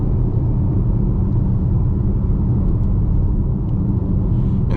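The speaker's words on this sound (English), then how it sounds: "the 8-speed transmission did a pretty good job of switching up the gears for me, and it got us right into the quickest gear" A 2023 VW Tiguan SE R-Line Black with an 8-speed automatic accelerating, heard from inside the cabin as a steady, loud low engine and road drone with no distinct shift points and no talking.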